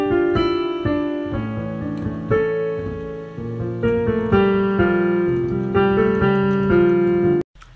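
Piano opening a cinematic beat inspired by a Disney movie intro, sustained chords and a slow melody played clearly and continuously, close and alone before cutting off abruptly near the end.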